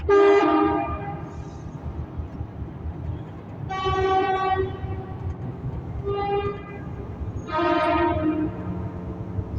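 A train horn blows four times in long, loud blasts over the steady rumble of rolling railcars, near a railway tunnel in Abha–Khamis Mushait, Saudi Arabia.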